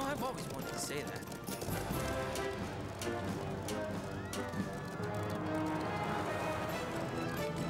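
A horse-riding sound effect from a TV show plays as busy, rhythmic hoof clip-clops mixed with music and other effects, steady and fairly loud throughout.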